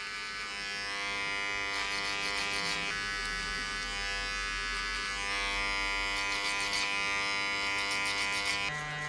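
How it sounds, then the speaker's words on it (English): An electric hair trimmer buzzes steadily and close up while refining a skin fade on a short high-and-tight crew cut, its pitch shifting slightly as the blade moves across the head. "I'm using the trimmer to be more refined"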